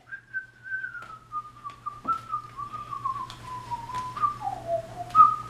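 A person whistles a slow, wavering melody alone, outdoors in a snowstorm, the tune gliding and dipping with a few short breathy accents over a faint steady background hum.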